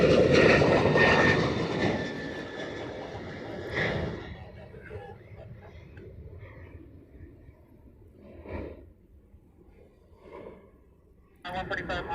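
A heavy aircraft takes off from runway 8 right in Hawaii. A loud jet roar peaks early and then fades into the distance, while radio chatter runs underneath.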